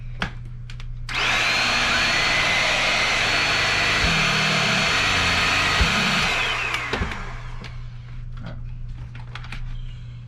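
A Shark Navigator Swivel Pro NV150 upright vacuum cleaner switches on after repair and runs loudly with a steady motor whine for about six seconds. Then it powers down, and its pitch falls away under a low background hum.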